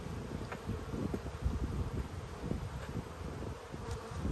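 Honey bees hum steadily around a failing backyard hive in Australia, a dense close buzz with individual insects droning past, alone without any talk.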